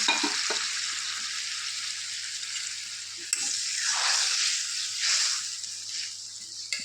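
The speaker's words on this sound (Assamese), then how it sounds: "এয়া গৰম পানী দি দিছোঁ" Hot water poured into a cooking pan, sizzling and bubbling steadily at close range with light stirring scrapes and a small clatter, alone without talk.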